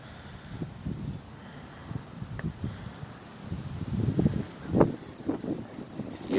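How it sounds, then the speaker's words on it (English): Wind blowing outdoors near a bird feeder, a low rumbling buffet on the microphone that swells and gusts stronger toward the end, mixed with faint rustling and handling bumps. "here comes that wind"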